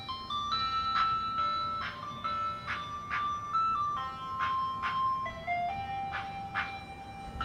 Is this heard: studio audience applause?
no